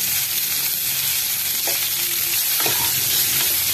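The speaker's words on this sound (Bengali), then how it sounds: "ফুলকপিগুলো ভাজা হয়ে গেছে, দেখুন এরকম লাল লাল করে ভেজে নিলাম।" Cauliflower florets with salt and turmeric frying in oil in a pan, a steady close sizzle with a few faint stirring clinks, no voices.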